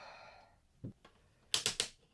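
Pedal mechanism of a FlexCycle Plus exercise bike gives three quick, sharp clicks in a row, close and crisp, following a soft thump, with a faint voice trailing off at the start.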